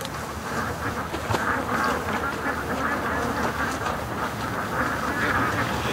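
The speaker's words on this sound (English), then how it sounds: "Muscovies that are causing all the ruckus over here" Muscovy ducks at a lake, with males chasing females in the water, raise a dense, continuous ruckus of calls and splashing that stays loud throughout, and a voice speaks faintly over it.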